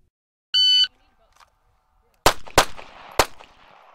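Three sharp M9 pistol shots crack out on an outdoor firing range, the first two close together and the third after a short gap, each loud and near, with an electronic beep signal sounding just before them.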